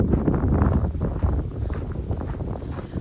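Strong wind blowing outdoors, a steady loud low roar buffeting the microphone throughout with gusty fluctuations, no voices.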